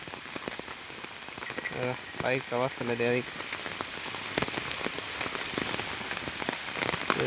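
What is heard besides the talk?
rain falling while loading a tractor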